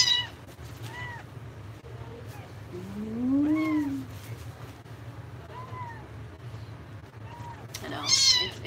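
Cat meowing at the vet, several drawn-out meows of varying length, one long and rising, close by over a low steady hum, with people talking softly.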